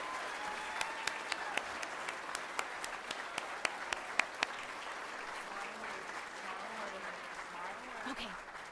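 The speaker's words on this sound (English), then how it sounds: "One more round of applause for this amazing group" Clapping rises for a group of graduating eighth-grade students at a middle school promotion night, at first a few sharp, distinct claps and then a softer wash of applause from the crowd, with faint talk underneath.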